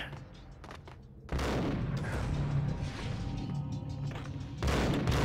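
Dual pistols fire in the Max Payne video game as rapid, overlapping bursts of shots. The sharp cracks and booms start after a quiet second and run on loudly, with another burst near the end.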